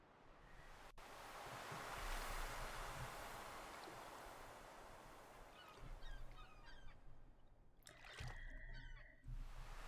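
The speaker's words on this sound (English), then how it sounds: "just the sound of the ocean is just relaxing" Ocean surf in the farming game Stardew Valley swells and recedes as a soft, continuous wash, with faint bird calls and light chiming effects appearing toward the end.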